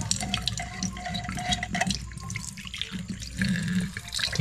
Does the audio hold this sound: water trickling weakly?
yes